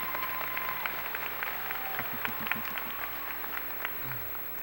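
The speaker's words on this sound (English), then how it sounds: "Let us give them a round of applause." Graduation ceremony audience applauding, a soft, diffuse clapping heard from a distance under a steady background hum and scattered crowd noise.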